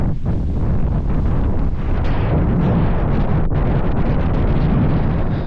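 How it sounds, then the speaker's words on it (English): Strong wind roars continuously across a mountainside camping spot on Suilven in Scotland, a loud, steady blast buffeting the microphone with no pauses. "as you can hear by the wind, it was not for dying down."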